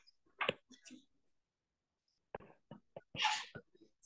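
A single sharp sneeze bursts out, followed by a quiet pause and then a few sniffs and soft breaths nearby.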